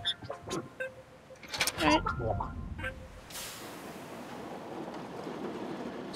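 A tram in the video game The Abandoned Planet starts with a burst of clanks and mechanical whirs, then settles into a steady rolling rumble and rushing noise as it moves.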